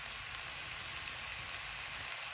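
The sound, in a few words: eggs being scrambled in hot oil in a pan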